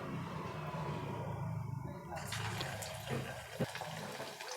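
Sabudana vada balls fry in hot oil with a continuous hissing bubble that grows brighter and busier partway through, with a few soft clinks near the end.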